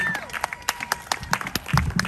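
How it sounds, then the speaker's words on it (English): Scattered clapping from an outdoor audience at an Arts in the Park community event, a brief run of distinct separate claps rather than a full ovation. "give a big round of applause for County Supervisor Greg Cox"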